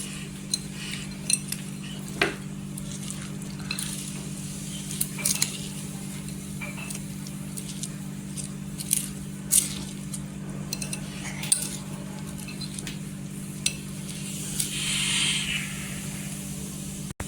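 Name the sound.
stirring cabbage chutney with tempering in a pan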